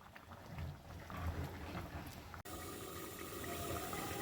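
Water is poured into a pan of aloo vadi curry with a continuous splashing, gurgling flow that cuts off abruptly, then gives way to a bubbling, simmering hiss.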